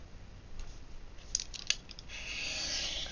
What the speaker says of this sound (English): I'm going to trim off a little bit from the side there